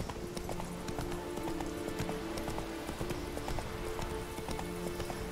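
Horse hooves trotting in the video game The Witcher 3, a rapid, even clip-clop rhythm heard fairly faintly and continuously over quiet game ambience.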